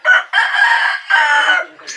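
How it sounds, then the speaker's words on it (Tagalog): Fighting cocks crow loudly at a gamefowl farm in Cabuyao, Laguna, with two long, close crows back to back and a third call starting at the end. "So, titingin-tingin tayo sa mga manok. Ito, maraming manok dito. Panabong."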